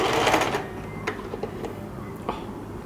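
A sewing machine starts stitching, heard as a brief loud whirring burst up close followed by scattered quieter mechanical ticks and clicks.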